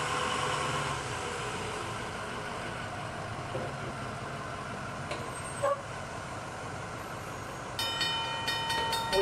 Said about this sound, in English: Hold up, I gotta hear if the train's gonna hit us.